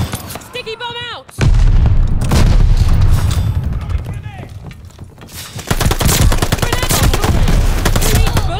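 A loud grenade blast booms in Call of Duty: Vanguard, followed by a rolling firefight of rifle and machine-gun bursts, with brief voices in between.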